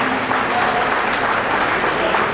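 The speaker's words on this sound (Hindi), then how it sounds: "जनाब रहमत अली आए हैं, जोरदार ताली से इस्तकबाल कीजिए" Loud, dense applause from an audience at a community conference in Sultanpur, welcoming a guest. Many hands clap continuously and evenly throughout, with no break.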